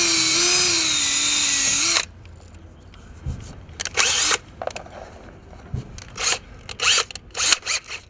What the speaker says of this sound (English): Again, 1/8 pilot drill.